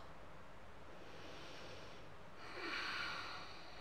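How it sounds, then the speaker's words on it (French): Sonorous exhalation during a yoga flow, a soft breathy rush of air that swells near the end over a steady background hiss, with no talking. "peut-être une expiration sonore."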